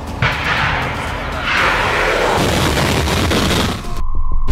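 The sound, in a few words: RS-24 Yars missile launch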